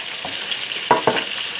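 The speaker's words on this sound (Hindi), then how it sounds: "हमारा चिकन अच्छे से फ्राई हो गया है।" Chicken frying in a pan: a steady hiss of hot oil with a few sharper pops and stir scrapes near the middle, close and moderately loud, with no talk.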